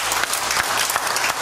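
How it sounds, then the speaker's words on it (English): A church congregation claps in dense, steady applause at a Sunday service, loud and continuous throughout. "Give him a hand clap."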